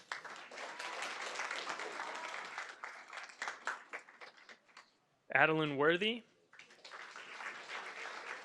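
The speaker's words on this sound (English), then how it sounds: "Please give him a round of applause as well" Applause at a school board meeting fills most of the stretch as a steady crowd clapping, briefly breaking off while a voice announces a name, then resuming.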